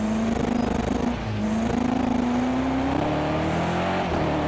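BMW M6 GT3 race car engine at Brands Hatch in Project Cars 2, a loud, continuous droning note that briefly dips on a gear change, then climbs steadily in pitch under acceleration, heard from close with faint tire noise.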